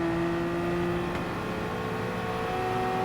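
A Group C race car in the Gran Turismo Sport video game at Le Mans, its engine holding a steady, even drone at high revs for the whole stretch with no break and no voices.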